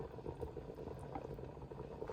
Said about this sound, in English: I'm gonna let this all boil down real good.